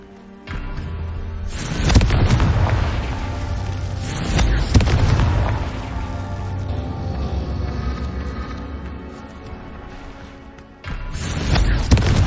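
Confringo spells from Hogwarts Legacy go off in repeated loud booming blasts, each swelling into a long rumbling roar with heavy low end before a fresh burst hits near the end.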